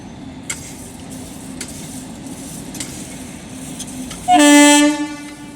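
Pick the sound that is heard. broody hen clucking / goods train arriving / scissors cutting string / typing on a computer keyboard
goods train arriving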